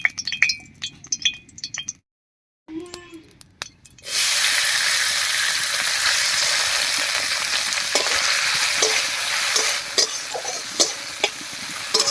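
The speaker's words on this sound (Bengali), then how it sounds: "এবার কড়াইতে সর্ষের তেল দিয়ে নারকেলটা হালকা করে ভিজে নিব" Grated coconut hits hot mustard oil in a kadai after a few clinks and a brief silence, bursting into a loud, steady sizzle that continues with occasional stirring clatter and utensil taps.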